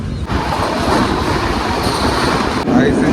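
Loud, continuous rumble and rattle of a fast-moving train on the tracks, with rhythmic clatter and a brief metallic squeal toward the end.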